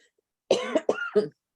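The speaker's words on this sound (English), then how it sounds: "Everyone seems to be getting these lingering coughs." A person coughs twice in quick succession at a community safety forum, close and fairly loud, followed by silence.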